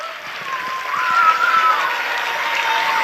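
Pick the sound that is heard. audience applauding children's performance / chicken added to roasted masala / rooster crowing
audience applauding children's performance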